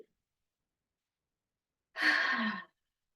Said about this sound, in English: Take a few breaths in.